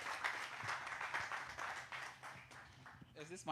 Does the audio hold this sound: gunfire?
no